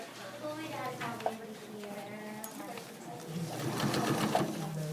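A sewing machine runs as material is stitched around its edge, a soft steady mechanical hum that swells near the end, mostly under a person talking closely throughout.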